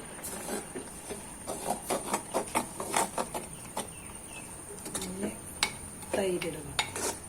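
Beetroot kichadi being stirred in a pot with the stove off, a spoon clinking and scraping repeatedly against the metal in quick bursts, with a faint steady whine in the background.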